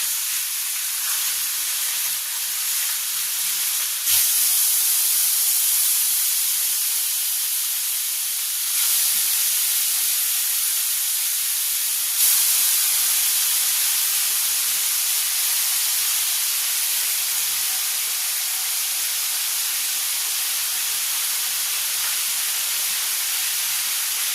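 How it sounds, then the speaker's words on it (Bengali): Hilsa fish frying in hot oil gives a steady, loud hiss and sizzle that runs on without a break, with a few brief swells in intensity. "আর এদিকে আমি তেলের মধ্যে এবার ইলিশ মাছগুলো দিয়ে দেবো।"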